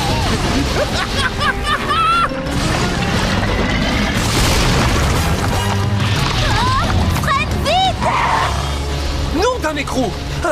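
A cartoon lava jet erupts and blasts away part of a bridge in Blaze and the Monster Machines, a long rumbling boom over lively music with voices and sound effects throughout.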